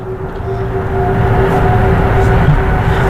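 Airbus A330 engines spooling up at takeoff thrust in a flight simulator, a steady roaring whine with a constant tone that grows slightly louder over a few seconds, with no talking.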